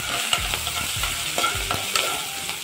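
Curry leaves and green chillies hit hot oil for an eggplant-tomato curry, crackling loudly and close while a spoon stirs in several distinct strokes, with no talking.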